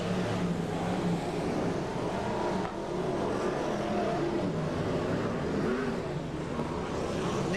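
BriSCA Formula 1 stock cars racing at Stoke in 1994, a pack of engines roaring together in a dense, continuous drone that swells and surges without a break.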